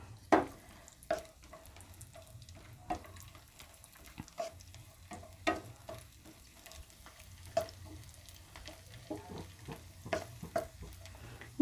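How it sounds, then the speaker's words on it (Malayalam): Grapes roast in a pan for Malabar kaipola, giving a soft, low sizzle broken by regular sharp clacks of stirring against the pan. "ഇതിലേക്ക് തന്നെ ഞാൻ ഈ മുന്തിരി ഇട്ട് കൊടുക്കുന്നുണ്ട്. ഇതും ഒന്ന് റോസ്റ്റ് ചെയ്തെടുക്കുക."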